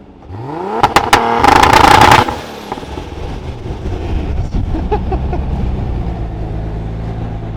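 A 2JZ-swapped Scion FR-S holds revs on two-step launch control, a loud, close engine roar with rapid crackling pops and bangs, then dropping to a rough, steady idle.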